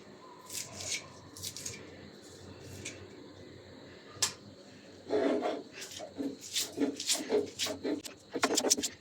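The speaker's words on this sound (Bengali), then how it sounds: "পাতাগুলা ভালোভাবে বেটে নিচ্ছি ভালোভাবে" Fresh thankuni (Centella) leaves, chopped small, being ground into a paste, giving a close, rough, repeated rubbing and rasping with irregular bursts of scraping strokes.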